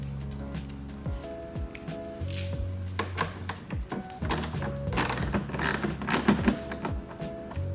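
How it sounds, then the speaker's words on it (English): A socket wrench ratchets as it removes the bolts holding the paneling on a 2015-2020 13th-generation Ford F150 during a headlight install, giving irregular clicking and creaking turns, close and fairly clear, with no talking. "there are a couple more bolts that are holding this paneling into place, which are right here. And we can remove those just with a socket wrench"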